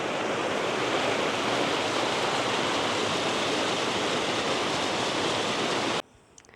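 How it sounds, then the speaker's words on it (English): A waterfall pours beneath a small footbridge on a rocky mountain footpath in Austria's Zillertal, giving a loud, steady, close roar that runs without a break and then cuts off suddenly near the end. "A little bridge over the waterfall."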